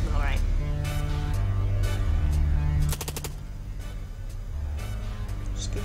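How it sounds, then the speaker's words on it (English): Rapid bursts of gunfire in the video game Long Gone Days as the player shoots at the wings of a flying enemy, crisp repeated cracks over music and tones. "Just keep shooting at his wings."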